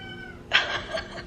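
A cat gives a short, clear meow up close, followed by a couple of softer trailing mews, with no talking over it.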